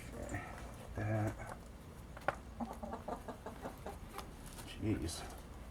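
Backyard chickens in an urban homestead chicken run clucking in short low bursts now and then, close and fairly quiet, with people talking softly nearby.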